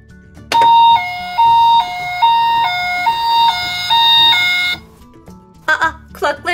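A two-tone ambulance siren wails loudly in a steady high-low pattern, then cuts off as a voice begins speaking.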